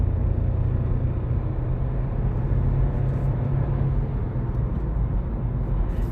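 Engine of a 2022 VW Polo pulling in third gear after a downshift, heard as a steady, loud low drone from inside the cabin with no talking.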